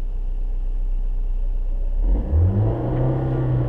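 A manual car pulls away as the clutch is released and gas applied, its steady low engine rumble deepening and swelling into a louder revving drone partway through, with no talking.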